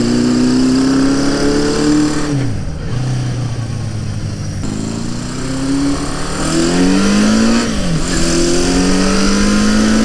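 A 1970 Honda CB500 motorcycle with re-jetted carburetors pulls hard through the gears, its loud, close engine note climbing in pitch, dropping at each shift, then rising again.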